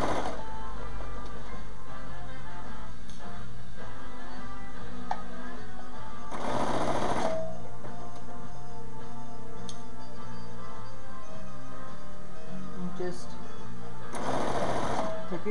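Sewing machine back stitching binding onto a sleeve ironing board cover: a steady, close, whirring motor hum and rapid needle ticking running throughout, with louder bursts of stitching and a voice talking over it.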